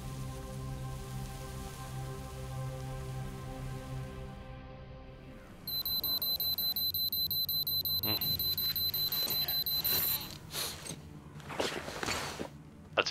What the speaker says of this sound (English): shut up, alarm